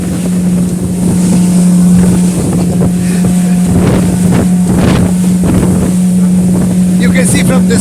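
A fast motorboat with a Suzuki outboard racing over the sea near Crete: loud constant engine hum close by, heavy wind rush and repeated slaps of spray on the hull.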